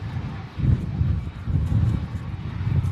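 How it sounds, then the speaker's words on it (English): A Lufthansa A321 airliner in from Frankfurt rolls out on landing at Manchester using idle reverse thrust in strong crosswinds, a steady distant rumble of engine roar with wind noise over it. "Idle reverse being used on the Lufthansa A321."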